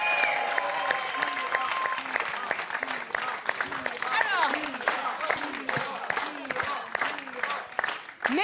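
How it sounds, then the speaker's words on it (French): A TV studio audience on a French talk show applauds a guest with sustained, dense clapping throughout, while a voice speaks and music plays underneath. "Et le public de C'est mon choix vous applaudit"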